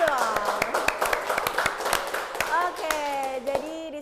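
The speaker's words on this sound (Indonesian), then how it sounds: "kasih tepuk tangan dulu dong." Audience at a city anniversary celebration event in Palu clapping in short scattered bursts, with sustained tonal voices or singing-like sounds running over and between the claps.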